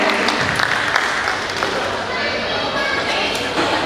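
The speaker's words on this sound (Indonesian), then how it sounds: "Boleh beri tepuk tangannya dong untuk Ketua Panitia kita yang udah berjeri lelah ya." A crowd at a Batak clan board inauguration gathering claps for the committee chairman, steady applause mixed with voices talking over it.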